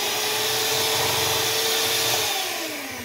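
An electric hand mixer beats cooled brown sugar fudge, a steady loud motor whir with a low churning rumble underneath, close up, easing slightly in pitch and level toward the end.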